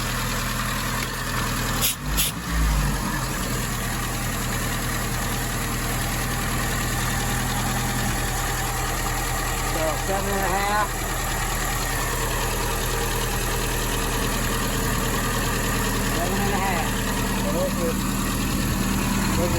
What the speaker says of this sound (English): So I need to raise the idle on this one a little bit.